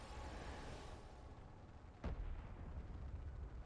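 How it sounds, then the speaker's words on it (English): A flashbang goes off in Final Fantasy XIV, a single sharp burst cutting through a faint, noisy game backdrop midway, followed by a slightly louder lingering wash. "Flashbang."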